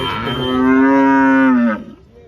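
A cow moos once, long and loud at close range, holding steady for over a second before trailing off, at a cattle market.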